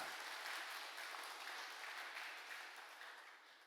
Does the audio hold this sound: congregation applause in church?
yes